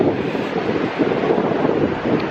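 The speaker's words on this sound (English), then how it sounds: "I hope the wind's not too harsh" Steady wind buffets the microphone while walking along a beach at Scarborough, a loud constant roar with surf-like rushing and no pauses.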